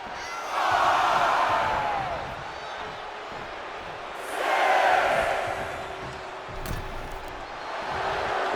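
Crowd noise from a WWE 2K25 wrestling game swells in two broad roaring waves, rising and fading, with a commentator talking over it throughout.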